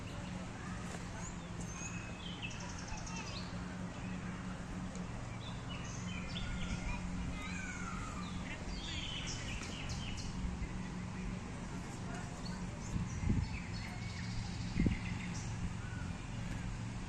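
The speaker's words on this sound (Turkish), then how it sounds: "Kuş seslerine bakın." Several birds chirp and tweet in the background of Bursa Botanik Park over a continuous low outdoor rumble, with a few louder knocks near the end.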